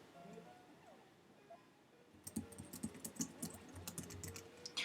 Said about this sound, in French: désolé si vous entendez mon clavier